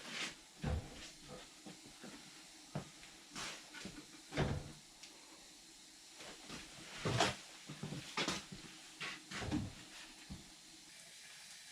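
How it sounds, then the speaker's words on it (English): Doors on restaurant-style swinging hinges in a remote fixer-upper cabin give several scattered knocks, bumps and light creaks, quiet and spaced unevenly over a dozen seconds. "He got restaurant hinges put on his doors."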